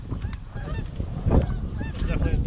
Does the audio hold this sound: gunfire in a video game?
no